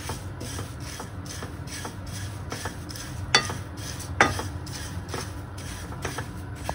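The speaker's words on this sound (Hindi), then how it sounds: "ये देख सकते हैं चूड़ा को फ्राई, कढ़ाई गरम था।" Poha (flattened rice) frying in a hot kadhai, a steady dry rustle and light sizzle with repeated scraping stirs and two sharper clanks of the spoon against the pan, close by and with no talking.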